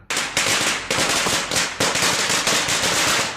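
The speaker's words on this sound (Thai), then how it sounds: "เสียงประทัด" A rapid string of firecrackers going off, loud sharp pops crackling continuously with brief breaks, close by and with no voices.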